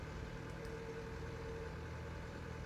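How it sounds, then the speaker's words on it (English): Tractor engine idling steadily in Farming Simulator 17, a low, constant rumble with a faint higher whine, continuous and unbroken for a few seconds with no talking. "Pretty sure that tractor just started."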